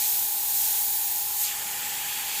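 An airbrush sprays paint in one steady, close, hissing burst, with a thin constant tone from the compressor or nozzle running beneath it.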